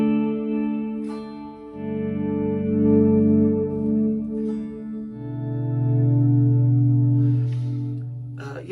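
Electric guitar run through delay and reverb with volume pedal swells, sustained chords fading in softly and ringing out smoothly like a keyboard pad, shifting between two chord shapes, close and loud with no talk.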